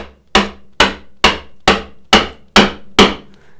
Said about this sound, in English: I'm going to establish the chisel so it's in good place.